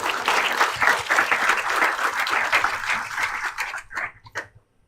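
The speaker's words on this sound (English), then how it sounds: "I request everyone to welcome sir with a round of applause" Audience at a Management Day event applauds to welcome a guest, a dense round of clapping that stays strong, then tapers into a few scattered last claps before silence.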